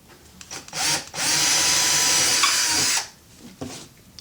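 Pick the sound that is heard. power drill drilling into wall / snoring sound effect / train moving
power drill drilling into wall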